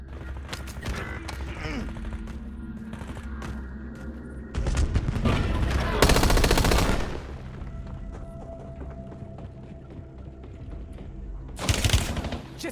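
Automatic gunfire from the Warzone video game, with sustained bursts and booming shots, loudest around the middle and again near the end, over a continuous mechanical game soundscape.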